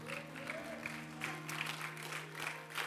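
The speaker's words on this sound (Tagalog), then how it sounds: "Come on, yung totoong palakpak para kay Lord." A church congregation applauding at a sanctuary service, steady dense clapping filling the room, fairly faint and even, with a sustained low hum beneath it.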